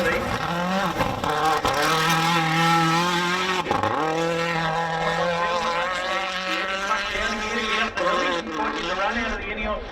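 A 700-horsepower Hyundai rally car in AP4-plus spec screams through a hillclimb stage, its engine note rising and falling through gear changes, loud and close with brief dips between pulls.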